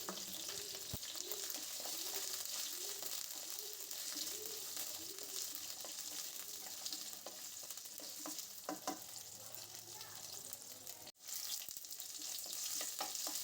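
Potatoes frying in oil with five-spice seeds and green chillies, a steady crackling sizzle with repeated stirring scrapes, a sharp knock near the end, no voices.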